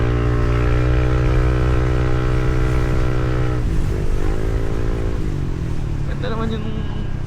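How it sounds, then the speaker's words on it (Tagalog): A Yamaha Aerox 155 V3 scooter with a full open exhaust riding at night: a loud, steady, close engine drone whose pitch dips and recovers as the throttle changes, with someone talking over it. "Tapos tong pipe pala, naka full open siya."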